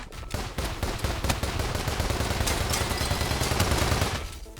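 A hand-cranked movie camera firing like a Gatling gun in a roguelike video game, a continuous rapid stream of loud gunfire-like shots running steadily for several seconds and cutting off at the end.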